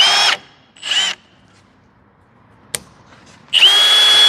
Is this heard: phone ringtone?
no